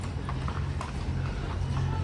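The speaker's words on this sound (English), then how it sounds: "Here's a gentleman on a horse." A horse carrying a rider walks along a town street in Ajijic, Mexico, its hooves clip-clopping in a steady, fairly close rhythm over low street hum and ambient noise.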